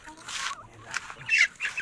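A rooster on a farm crows in short, hoarse bursts close by, alongside a pit being dug for a koi pond, with a faint low rumble beneath and no talk.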